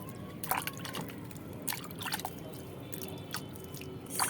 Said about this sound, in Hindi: पानी डाल देना है